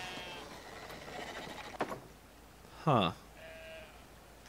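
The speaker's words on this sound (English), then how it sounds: "but the sheep are trained, you see" A sheep bleats once, brief and fairly clear, in the video game Brothers: A Tale of Two Sons, set amid quiet game ambience with people talking softly nearby.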